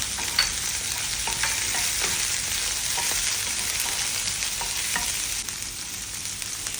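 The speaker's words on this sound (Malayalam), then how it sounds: "പച്ചമുളകും നന്നായിട്ട് പച്ചമണം മാറുന്നവരെ നന്നായിട്ട് മൂപ്പിക്കുക." Green chilies fry in oil with ginger, producing a steady close sizzle dotted with light scraping stir clicks throughout.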